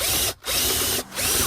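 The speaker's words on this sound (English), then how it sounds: "I'm just taking the heads off the rivet because I actually forgot to bring the right size drill bit" A power drill cuts the heads off rivets on a Land Rover Discovery 2 differential lock, whining loudly in two bursts with brief pauses between them.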